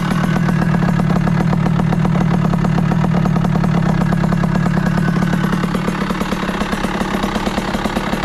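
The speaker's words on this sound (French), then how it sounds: "on va faire chauffer la moto tranquillou bilou" A motorcycle engine idles steadily up close while warming up, its low, even throbbing chug continuing throughout without revving.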